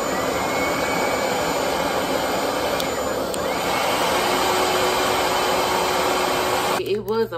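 A RevAir reverse-air hair dryer runs with its suction on, giving a loud, steady whooshing roar throughout before it cuts off abruptly near the end.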